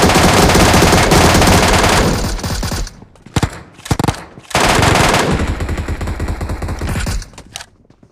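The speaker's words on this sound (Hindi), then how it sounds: "तभी मैं इस दूसरी साइड से जाता हूँ और उस पर फायर देता हूँ।" Loud, close automatic gunfire in PUBG Mobile's Metro Royale mode: a sustained burst, a few short stuttering shots, then another long rattling volley cut off abruptly.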